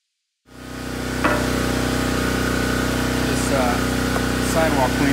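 Powerstroke 3100 PSI pressure washer with a rotating turbo wash nozzle starts up and runs steadily, a loud continuous engine drone with a constant hum and a few faint clanks over it.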